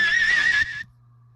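A horse neigh sampled from a song, a single bright whinny about half a second long that stops abruptly, heard alone and up close over a faint low hum.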